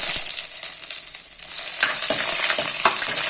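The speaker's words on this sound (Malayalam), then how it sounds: "കറിവേപ്പില, ഉലുവ ഇടാം. ഇനി ഇഞ്ചിയും വെളുത്തുള്ളിയും" Curry leaves, fenugreek seeds, ginger and garlic sizzle steadily in hot oil, a close, continuous crackling hiss with brief sharper pops and a few quick stirring scrapes, no voices.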